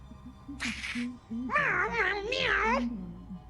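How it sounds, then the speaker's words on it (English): A cat meowing in the video game Vampire the Masquerade: Bloodlines 2, with a short meow followed by a longer, wavering two-part meow, close and clear over a low background hum. "Meow. Meow."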